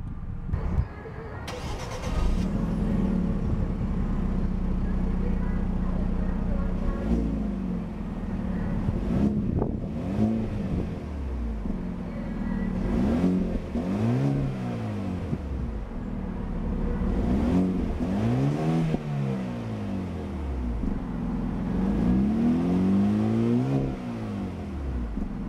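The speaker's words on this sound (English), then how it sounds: "A beautiful smooth startup from that 2-liter twin-scroll turbocharged 4-cylinder power plant." A 2014 Hyundai Genesis Coupe 2.0T with a 2-liter twin-scroll turbocharged four-cylinder fires up, settles to a steady idle, then gets blipped several times, each rev rising sharply and falling back, recorded close outdoors with some wind noise.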